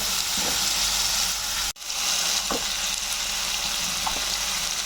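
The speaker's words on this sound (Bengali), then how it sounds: "দু মিনিট পর আমি আদা বাটা দিলাম এরপর আমি আবার দু মিনিট কষবো" Spice paste with ginger paste sautéing in a pan for palak paneer, a continuous close sizzle with occasional stirring scrapes and a brief break partway through.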